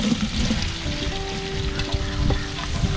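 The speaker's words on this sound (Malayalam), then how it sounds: "അരിഞ്ഞ് വെച്ചിരിക്കുന്ന സവാള നമ്മൾ ഇടുകയാണ്." Chopped onions sautéing in a pan for chicken majboos, a crackling sizzle with bursts of spattering and a few stirring knocks, no one speaking.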